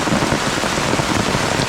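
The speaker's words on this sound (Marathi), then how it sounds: "पाऊस थंड लागलो अरे" Steady rain pours down beside a stream during monsoon fishing in Konkan, a dense, even hiss of drops with no voices.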